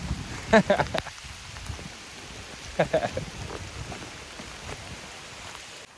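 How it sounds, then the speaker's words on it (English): Steady rain hisses throughout on the Appalachian Trail, with a couple of louder bursts of nearby sound rising over the patter. "It's raining, it's pouring, Jasper is snoring."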